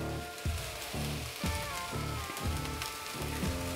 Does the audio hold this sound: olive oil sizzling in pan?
yes